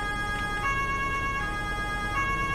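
A police car siren in Farming Simulator 19, blue lights on during an emergency call-out, wails in a steady alternating two-tone pattern, loud and continuous.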